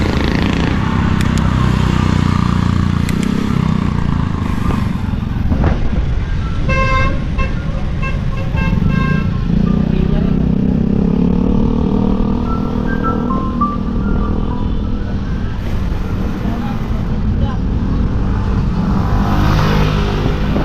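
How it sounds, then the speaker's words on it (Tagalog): Motorized tricycles and street traffic at the entrance to Baseco in Manila, with engines running steadily throughout and several short horn toots rising over the dense, continuous road noise. "Maganda naman na daloy ng mga tricycle na papasok at papalabas"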